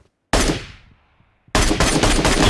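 Gunfire in the mobile battle-royale game BGMI/PUBG Mobile: one loud sharp shot with a decaying tail, then a rapid sustained automatic burst, close and loud with no talk.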